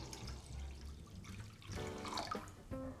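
Water poured into a pot of milk and sugar makes a soft gurgling splash that grows fuller partway through, followed by a short glugging finish, close and quiet.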